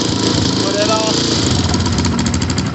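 A 250cc Xmotos dirt bike engine runs steadily close by, a loud continuous buzzing idle with a faint rise in pitch around the one-second mark.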